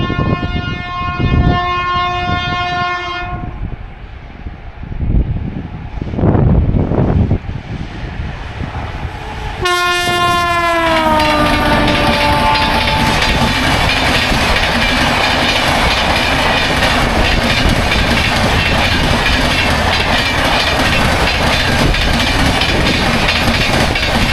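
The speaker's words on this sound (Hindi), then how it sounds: "फ्रंट पेंटो के साथ निकली 22631 मदुरई बीकानेर अणुव्रत एसी, यानी कि इंडियन रेलवेज़ की लॉन्गेस्ट रनिंग एसी एक्सप्रेस" Indian Railways 22631 Madurai Bikaner Anuvrat AC Express, with the front pantograph raised, sounds a long horn and then roars past at speed, a loud continuous rush of wheels and wind rising abruptly and filling the rest.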